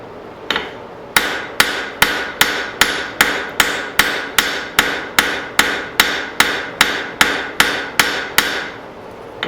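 A hammer planishes forged metal at the anvil in a steady, evenly spaced run of about twenty loud, ringing blows, each followed by a short decay.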